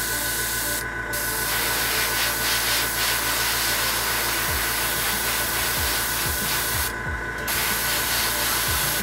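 An airbrush hisses steadily as it lays a smooth, even base coat of paint onto a scale model, a continuous near spray broken only by two brief pauses, with no talk.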